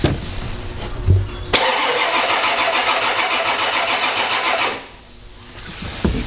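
A 1993 Ford F-250 with a 7.3L IDI diesel running rough: a sudden loud start, then a steady, clattering idle close by for several seconds before the engine cuts out and goes quiet.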